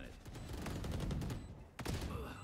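A Vandal rifle fires in the tactical shooter Valorant during a competitive match, with a rapid burst of crisp shots and a distinct louder shot near the end, under soft commentary.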